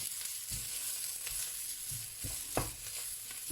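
Sausage being stir-fried in a pan, with a low, continuous sizzle and occasional soft scrapes and knocks of the spatula at close range; no voices.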